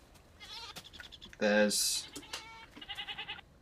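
Goats in a Minecraft Technic modpack game let out a loud, short bleat in the middle, set among scattered game clicks and small blips, with a brief word of speech at the start.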